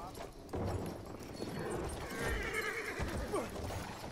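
Horse in the Battlefield 1 video game whinnies loudly and gallops with clattering hooves, the neigh rising clearly over pounding hoofbeats, while a player talks over the game sounds.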